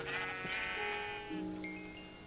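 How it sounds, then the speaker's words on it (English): Sheep bleating in the video game Minecraft, a few drawn-out, wavering bleats close by, one after another, with no talk over them. "What's that? That's a sheep."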